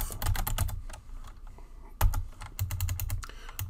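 Quick clattering keystrokes on a computer keyboard, close and crisp, in rapid bursts with a brief pause in the middle, no talking.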